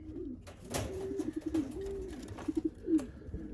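Racing pigeons coo softly nearby, a series of low throaty warbling calls with short pulses.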